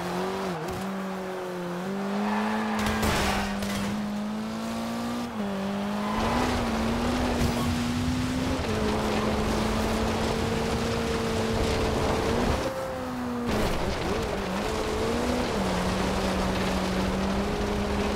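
A 1977 Ford Escort RS1800, lightweight and all-wheel drive, revving hard through the gears off-road in Forza Horizon 2, its engine note climbing and dropping in pitch with each shift, loud and steady throughout.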